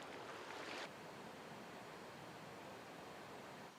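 Gentle ocean waves wash faintly and continuously off Shikinejima island, a soft broadband hiss of surf with a slightly louder swell at the start.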